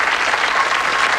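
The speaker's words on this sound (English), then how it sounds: "Give them a round of applause" A studio audience at the Bullseye darts game show in 1986 breaks into loud, dense, sustained applause filling the room.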